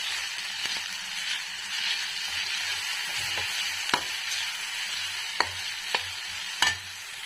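Mango pulihora rice is stirred in a hot pan, a steady low sizzle with scraping spoon strokes and a few sharp clinks against the pan, quiet and close with no speech.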